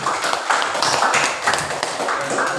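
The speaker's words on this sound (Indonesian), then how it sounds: "beri tepuk tangan" Children in a classroom clapping their hands together, a brief burst of quick, uneven claps close by lasting under three seconds, with no talking over it.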